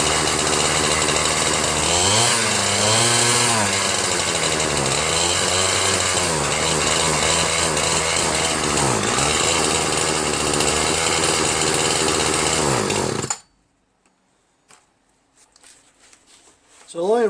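A Cub Cadet lawn tractor engine running rough gives a loud, close, buzzing drone that surges and sags unevenly for about thirteen seconds, then cuts out abruptly into near silence with faint handling noises.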